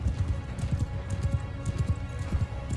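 Hooves of horses galloping across terrain in the medieval video game Mount & Blade, a rapid repeated thudding beat that is close and fairly loud, with no speech.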